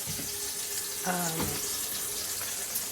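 Water splashes briefly from a tap against a steady background hiss, lasting about a second before fading into quiet running.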